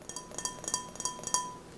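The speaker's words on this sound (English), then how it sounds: "So we have a very nice real glass here." Real glass wine glasses clink together softly several times in a quiet room, bright delicate taps spaced irregularly with faint ringing tails.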